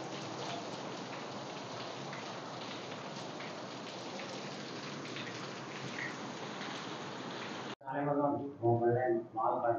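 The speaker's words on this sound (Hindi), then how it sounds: "रिमझिम रिमझिम बारिश।" Light drizzling rain hisses steadily and close for most of the stretch, then stops abruptly as a voice begins speaking at the end.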